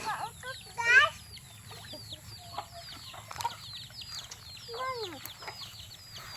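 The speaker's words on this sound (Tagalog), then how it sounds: "Marami lang siyang mga manok." Many chickens on a quiet rural farm, scattered clucks and calls near and far over a low steady background, with a brief flurry of louder squawks.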